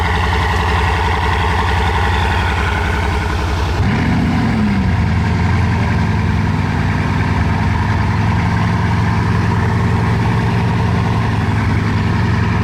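Bugatti supercars in a village convoy, including Mistral models, idle with a loud deep steady engine rumble; midway one more engine cranks and fires with a brief rising roar, then settles into the combined idle.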